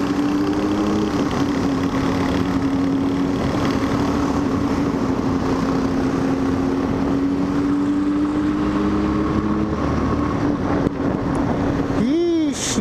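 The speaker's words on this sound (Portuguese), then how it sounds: "Quatro cilindros. Tem quatro cilindros perto. Que moto é?" A four-cylinder Honda Hornet motorcycle engine idles with a steady, smooth rumble close by, then revs briefly with a sharp rising-and-falling burst near the end.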